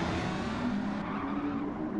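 Hybrid engine-swapped race car drifting in a racing video game, tires squealing in sustained pitched screeches over a continuous engine roar, loud and close, no voices.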